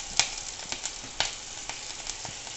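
Ginger and chilli frying in hot oil in a pan make a faint, steady sizzle, dotted with small crackles and pops.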